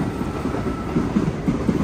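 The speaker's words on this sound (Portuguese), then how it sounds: "Olha o trem passando aí, ó," A train runs along the railway tracks nearby with a steady low rumble and faint rhythmic wheel clatter, and no voices over it.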